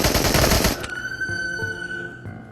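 Heavy automatic gunfire from the VR game Into the Radius bursts loudly for under a second, then stops, leaving ringing, echoing tails and a faint metallic click.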